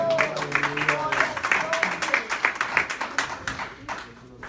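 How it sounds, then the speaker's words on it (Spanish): Church congregation applauding during a Spanish-language sermon, a moderate patter of clapping that runs throughout, with tonal voices or singing layered over it before it fades toward the end. "¿Cuántos pueden darle un fuerte aplauso al Señor?"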